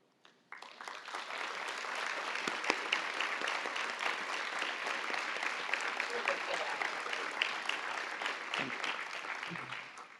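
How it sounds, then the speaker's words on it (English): An awards-ceremony audience breaks into applause that starts abruptly, holds as a dense, fairly distant clapping wash for about nine seconds, then dies away, with a faint voice near the close. "please stand up so we can briefly applaud your efforts to promote, protect, and empower our youth and their health and well-being"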